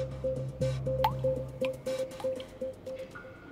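Water drips from the walls and ceiling of a limestone cave. Close, distinct plinks fall at an irregular pace over a low, hollow cave ambience, with no voices.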